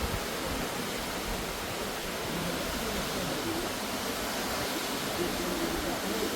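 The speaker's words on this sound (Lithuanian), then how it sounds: "Kur nori parodyti krioklį." Trümmelbach Falls near Lauterbrunnen pours out a steady, dense roar of rushing water. The broad hiss holds constant throughout, close and enveloping, with no voices.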